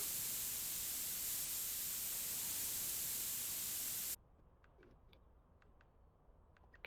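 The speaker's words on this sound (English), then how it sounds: "My terrible spray paint moves." A steady, loud hiss of spray paint being applied to a car in Car Dealer Simulator, running without a break for about four seconds before stopping abruptly, followed by faint ticks and clicks.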